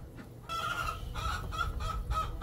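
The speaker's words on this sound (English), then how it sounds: "I'm watching two of my roosters kind of" Chickens cluck and a rooster makes short throaty calls, close by, in a quick run of several notes.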